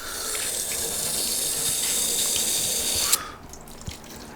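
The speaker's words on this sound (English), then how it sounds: "You can see that water just beat up and run right off the paint" Water sprays and runs steadily over a truck's sealant-coated paint during a wash, then cuts off abruptly, leaving a few faint drips and trickles.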